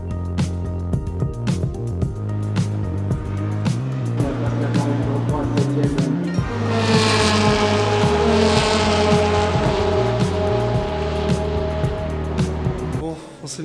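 Race cars on the Le Mans circuit roar past again and again, with engines rising and falling in pitch, and one loud close pass stands out near the middle of the run.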